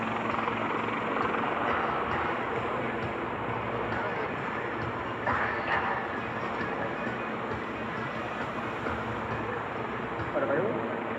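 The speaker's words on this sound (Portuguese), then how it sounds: "O helicóptero da direita está pronto a largar então a tal inserção." A Portuguese Navy Lynx helicopter hovers at an air show, its rotor producing a constant loud thrumming drone that persists throughout, with a commentator speaking over it.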